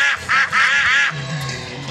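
Cartoon ducks quack in a children's feeding game, three quick loud nasal calls followed by a softer trailing note.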